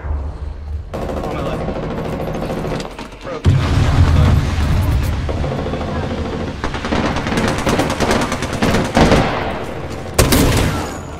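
Hemlock rifle in an Apex Legends-style shooter firing in single-shot mode, sharp repeated reports in uneven bursts amid loud game effects, explosions and background noise, with a voice speaking at times.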